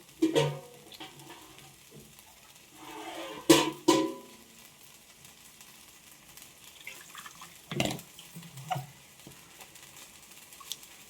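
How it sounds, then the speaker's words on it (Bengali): Water poured into a cooking pan of frying shorshe potol (pointed gourd in mustard sauce), giving a few short bursts of splash and sizzle over a low, steady background, with a pause between pours. "এরপর একটু পরিমাণ মতো জল দেব।"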